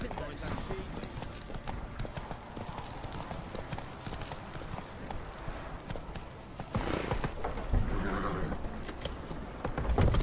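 Horse hooves clip-clop steadily in The Witcher 3: Wild Hunt as the mount is ridden along, the rhythmic footfalls mixed with game ambience and other effects.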